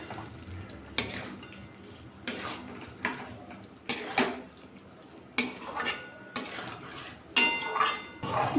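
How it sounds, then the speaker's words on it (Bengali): Potol, the pointed gourd, being stirred into a spiced vegetarian dom potol curry in a pan, a spoon scraping and clinking against the metal in repeated bursts about once a second, with faint sizzling between strokes. "পটলগুলো দিয়ে দেবো, দিয়ে 2-1 মিনিট নাড়াচাড়া করে নেব।"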